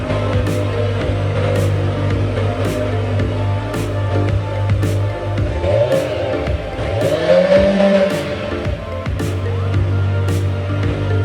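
Kawasaki Z900 motorcycle engine idling loudly and close, with a steady low drone that swells and dips as the throttle is blipped partway through.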